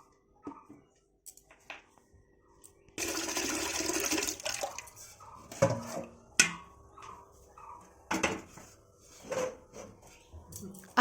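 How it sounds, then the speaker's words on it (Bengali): Bath water runs from a tap at home, a steady broadband rush starting partway through and continuing under scattered clatter of household items being handled. "আর আমার স্নানের জল বসিয়ে দিলাম।"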